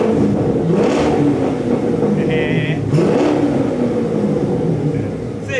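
A Corvette's engine rumbles and revs from inside the cabin, a loud low drone that swells in pitch around the middle and again near three seconds, with people talking over it.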